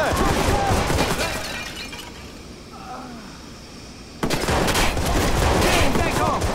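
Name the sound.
gunfire in a video game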